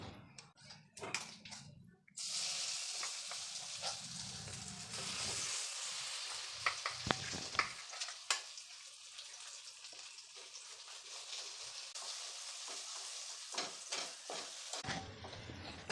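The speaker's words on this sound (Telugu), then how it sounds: "ఈ తాలింపులో మన పచ్చడిని మిక్స్ చేసి కలుపుకుందాం." Gongura chutney stirred into a hot tempering with asafoetida: a loud hiss and sizzle of frying with scraping stir strokes, settling into a steady crackle, then stopping abruptly near the end.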